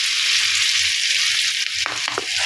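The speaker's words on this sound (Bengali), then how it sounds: "আর এই যে এখানে আমাদের তেল গরম করে নিয়েছি। এবার মাছগুলি এক এক করে দিয়ে দেবো।" Fish sizzle and fry in hot oil in a pan, a loud steady hiss with a few sharper pops and crackles near the end as pieces go into the oil, no talking.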